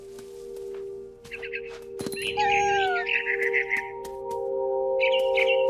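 Birds in the video game What Remains of Edith Finch give a series of short chirps and trills, clear and near, over a steady hum and some clicking game noises.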